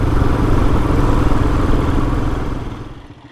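A Royal Enfield Himalayan motorcycle climbs a rough, no-maintenance jeep trail toward the Allegheny Plateau, its engine giving a steady, close, loud thrum. Rattles from the rough ground run through it before the sound fades near the end.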